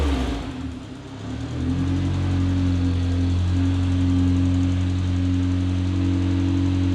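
A 1.8T-powered Toyota MR2 engine cranks and fires up with its exhaust cutout closed, then settles into a steady, moderately loud idle with a low droning hum.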